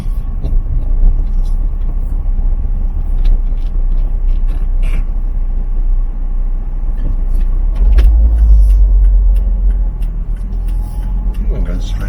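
An old AEC Regal RF bus rumbling through a Kentish village, its low engine drone steady and close throughout, swelling louder for a moment before easing off, with someone talking over it.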